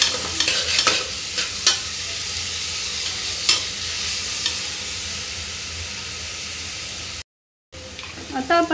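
Onion sautéing with ginger-garlic paste in a pan for veg pulao, a steady broadband sizzle with occasional spoon scrapes and stirring knocks, close and continuous, with a brief dropout near the end.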